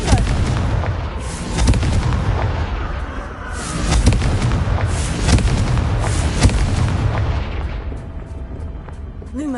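Fiery blast spells exploding in the Hogwarts Legacy video game, a run of heavy booming bursts about every second or two with crackling tails, loud and close, with no talking over them.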